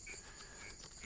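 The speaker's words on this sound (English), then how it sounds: "You can probably hear the frogs in the background." Frogs calling at night beside a dirt-road river crossing, a steady faint chorus of high chirring and croaks with no talk over it.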